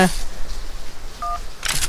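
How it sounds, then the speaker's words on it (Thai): Telephone dialing in a prison escape video game: a short tone at the start and another brief DTMF beep partway through, with game ambience and a speaking voice over it. "หรือว่าเป็นโทรศัพท์เอ้ยโทรศัพท์"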